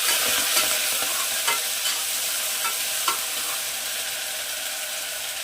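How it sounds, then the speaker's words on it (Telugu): Ginger garlic paste and fenugreek leaves being stirred into browned onions in a hot pan for a brinjal mutton curry, a steady sizzle with soft scraping strokes of the spoon, close and continuous with no talking. "ఇందులో అల్లం వెల్లుల్లి పేస్ట్, మెంతం కూర వేయాలండి. వేసి కలుపుదాం."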